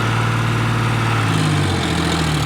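A heavy tractor engine idles steadily nearby, a constant low rumbling hum with a slight shift in pitch partway through.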